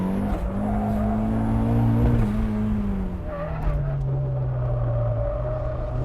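Flyin Miata Turbo braking into a corner on track with a brief tyre lockup, a squealing skid over a steady engine drone, heard from inside the car.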